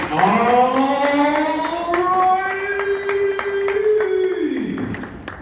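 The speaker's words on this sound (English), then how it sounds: "I want everybody to give this guy a big round of applause." Applause for a speaker at a 1 Million Cups startup gathering in Omaha. Scattered clapping runs under a long, loud, rising whoop from the crowd that holds steady before trailing off.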